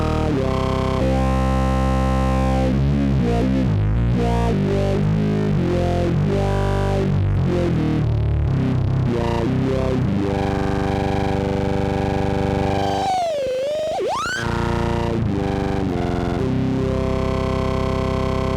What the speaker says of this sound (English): that's a fairly distorted sound